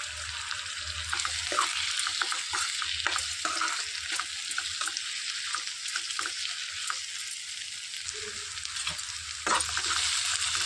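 Finely chopped tomato sautés in a pan, a constant bright sizzle broken by frequent quick scraping stirs, fairly close and with no talk.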